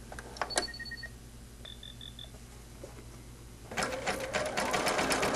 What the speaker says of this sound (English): what I'm doing here is I'm stitching down the thread, but I'm also stitching down the border cord as I go around there